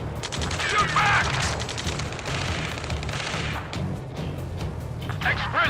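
Sustained gunfire in a firefight in the video game Ace Combat 7, with rapid automatic bursts and booming shots, while soldiers shout urgently over the shooting.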